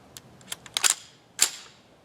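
Gunshots from a 5.7x28mm short-barreled rifle firing 40-grain Barnes VLC ammunition outdoors: several sharp cracks in quick succession, a tight cluster, then one louder report after a short pause, each with a brief fading tail.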